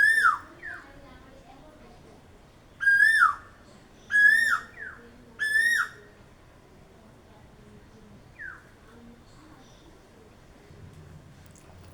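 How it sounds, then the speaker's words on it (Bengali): An Asian koel calls from a treetop in a breezy outdoor setting, its rising whistled notes coming as a quick burst, then three loud repeated calls a second apart, then a single fainter call, with soft wind noise underneath. "কোকিলের ডাক কান্না সত্যি শুনতে ভালো লাগে।"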